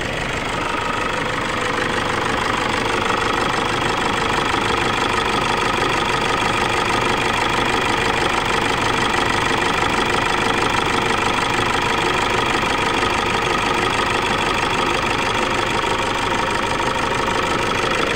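A Toyota Fortuner diesel engine runs steadily and loudly throughout, a continuous rough idle with a knocking, clattering texture and no talking.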